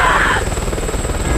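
Helicopter in the film 28 Weeks Later, a loud, steady rotor whir with a pulsing chop, close and continuous throughout.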